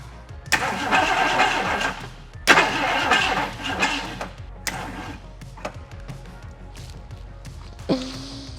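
An old 1969 Ford Mustang engine cranks repeatedly in long grinding bursts with pauses between, struggling but never catching, ending with a brief mechanical whine.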